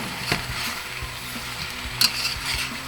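Sweet and sour pork vegetables sizzle steadily in a hot pan while being stirred, with a few scraping clicks of the utensil against the pan and a brief louder clatter near the end.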